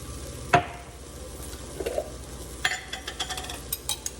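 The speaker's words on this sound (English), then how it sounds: "and I'm just gonna add this garlic" Minced garlic hits hot oil in a pan with a sharp clack, then sizzles quietly while a few light scrapes and taps of stirring follow.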